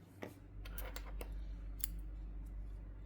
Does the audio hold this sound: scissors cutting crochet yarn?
yes